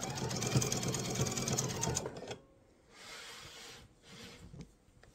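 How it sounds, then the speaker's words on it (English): A sewing machine stitches diagonally across a mesh tote in a quick, steady run that stops abruptly, followed by a few soft rubbing handling sounds. "I'm going to sew diagonally up this side"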